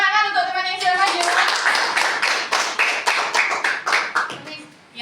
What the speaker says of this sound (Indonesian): Beri tepuk tangan untuk teman yang sudah maju.